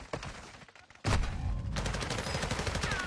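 Pistol gunfire in Call of Duty Warzone 2.0, a sudden loud report followed by a steady volley of rapid shots over a dense battle din, close and intense, with no speech.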